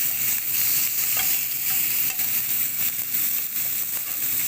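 Lamb loin chops sizzle steadily in a hot pan, a continuous bright frying hiss with faint crackles and spits, loud and close throughout with no talking.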